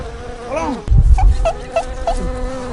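Wasps buzzing close around their nest, several droning wingbeats rising and falling in pitch over a few seconds, with a brief thump midway and no voices.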